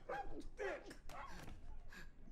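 A dog barks and snarls in the video game Wolfenstein II: The New Colossus, with several sharp, close barks in quick succession and a little voice mixed in.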